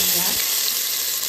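Onions frying in oil for a beef and vegetable stir fry make a short, dense, even sizzle up close with no voices.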